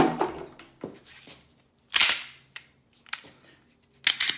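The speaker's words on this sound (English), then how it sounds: "You rotate down, and the pistol just slides right out." A Glock pistol slides out of a CAA Micro Roni conversion kit on a tabletop, giving a few sharp, close plastic-and-metal clacks and clicks with short pauses between them.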